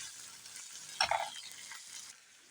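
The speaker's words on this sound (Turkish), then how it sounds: "Soğanlar kavrulmaya yaklaşınca bu bir yemek kaşığı kadar kavurmayı ilave ediyoruz." Onions frying with kavurma meat being stirred in a pan, a soft continuous sizzle with one brief louder scrape of the spoon, faint and close, no talk.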